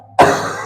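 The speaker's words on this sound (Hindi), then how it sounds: "जिस प्रकार से मैं खांस रहा हूँ" A man coughs once during a lecture: a sudden, loud, rough burst that rings out and fades over a fraction of a second, with no talking.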